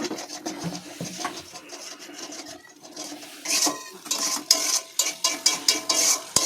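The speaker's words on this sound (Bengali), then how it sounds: "ভালো করে ভেজে নেবো এগুলো, মশলা ভালো করে ভেজে নিলেই তো মাংস টেস্ট হবে" Spices fry in oil in a pot for a home chicken curry while a spoon scrapes and stirs, giving a soft sizzle that turns into louder rhythmic scraping strokes toward the end.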